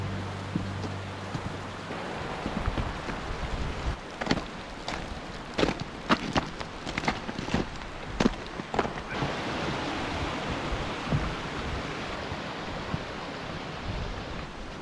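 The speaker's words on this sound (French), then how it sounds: "je laisse la grande cascade derrière moi" A large waterfall near Puy de Sancy in snowy Auvergne roars as a constant broadband rush, with a burst of sharp clattering knocks partway through, then steady roar again.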